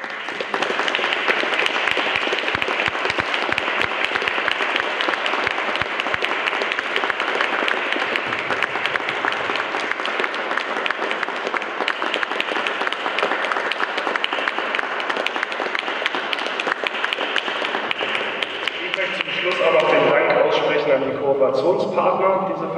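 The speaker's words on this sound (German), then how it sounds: "Ich denke, es ist nochmal einen großen Applaus." Audience applause for a panel at an event on conscientious objection and antimilitarism in South Korea, a long, even burst of many hands clapping from a full room that fades out near the end as a voice resumes.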